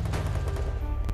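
Rapid gunfire in the Garena Free Fire mobile game, a dense burst of loud shots over a booming low rumble, with no talk.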